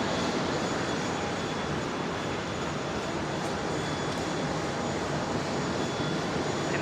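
An airplane taxiing at Brisbane International Airport gives off a steady, broad engine roar and rumble, constant in level and heard from some distance with no talking.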